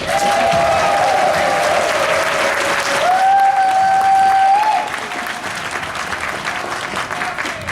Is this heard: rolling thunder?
no